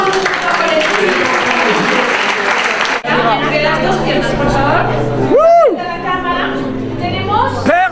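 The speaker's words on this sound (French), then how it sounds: "Applaudissez le Saint-Esprit." Congregation applause and cheering at a charismatic church healing service, dense steady clapping throughout with a crowd roaring, a preacher's voice and sung shouts cutting through near the end.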